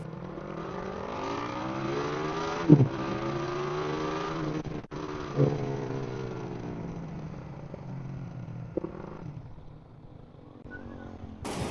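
A Raider motorcycle engine hums and shifts pitch as it rides up and slows to a stop at home, with a couple of sharp knocks along the way, fairly close and moderately loud.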